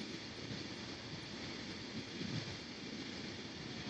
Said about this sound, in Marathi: इथून ही मालगाडी जात आहे